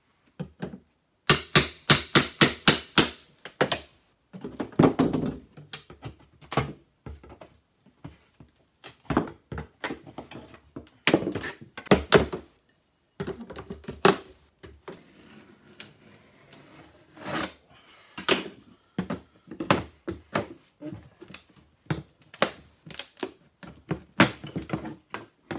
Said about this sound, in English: Pry bar and hammer.